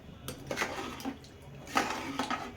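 Tamarind water is poured and stirred into a pot while cooking taro root stew, giving soft liquid splashes and light clinks of metal against the pot in a few separate bursts.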